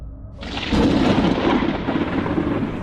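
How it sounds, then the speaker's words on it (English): A night thunderstorm in Oregon: a loud, rolling rumble of thunder swells in after a moment and carries on over a dense wash of falling rain. "There was a thunderstorm that night"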